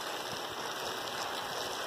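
Heavy afternoon rain pours from a roof gutter spout in northeastern Brazil, making a loud, continuous broadband rush of falling water that holds steady without a break.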